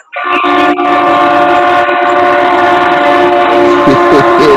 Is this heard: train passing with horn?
yes